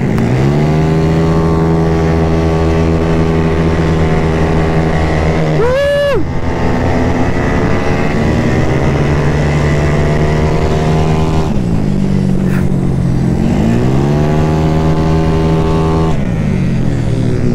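Loud, close engine roar from a Mio 160cc motorcycle set up for racing, holding a high buzzing drone with sharp revs and pitch sweeps as it shifts and accelerates, continuous throughout with faint voices beneath.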